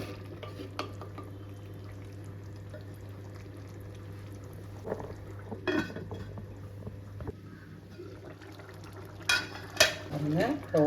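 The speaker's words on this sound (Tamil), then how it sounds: "இந்த மசாலில் இந்த ப்ரோன் வேகட்டும்." Prawns simmering in a kurma masala, giving quiet bubbling and sizzling under faint utensil clinks, with a few louder stirring and scraping bursts near the end.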